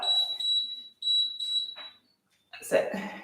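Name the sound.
workout timer beeping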